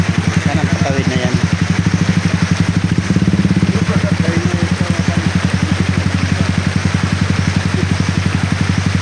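A motorcycle engine idles steadily and close by during heavy rain from a typhoon in Lanuza, Surigao del Sur, its even low throb running throughout, with talk heard alongside it.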